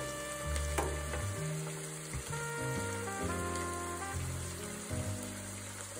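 Celery, leek and carrots fry in a pan, a steady close sizzle with crackling spits and occasional stirring scrapes, no voices.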